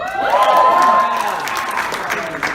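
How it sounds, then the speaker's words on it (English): An awards-night crowd claps and cheers as a track and field athlete's name is announced, with a loud burst of applause at the start that thins slightly but carries on across the short moment. "I'll say their name and then you can cheer"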